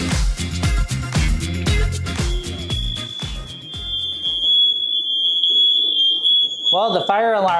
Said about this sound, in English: Well, the fire alarm works.